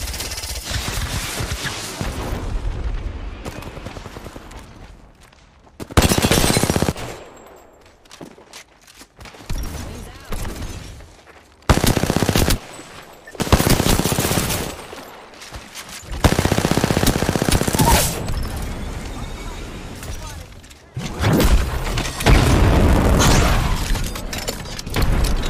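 Bursts of rapid automatic gunfire and single shots in a ranked video game match, loud and close, coming in several dense volleys separated by short quieter gaps with occasional booms.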